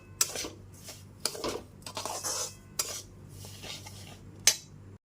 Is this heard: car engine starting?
no